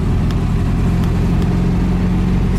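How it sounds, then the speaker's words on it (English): A VW Beetle engine runs steadily with a loud, constant low rumble and no breaks or surges. "Engine sounds good though"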